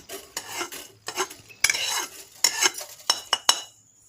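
Mustard seeds and fenugreek splutter in a pan for a gooseberry pickle, giving bursts of crisp pops and crackles, interspersed with metallic spoon clinks as the mix is stirred close by.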